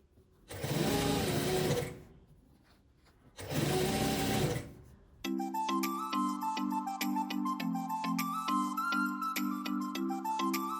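Domestic sewing machine stitching fabric scraps for a patchwork flower rug, running in a steady fast rhythmic whir with small pitch shifts; two short bursts of running come first, then a longer continuous stretch close up.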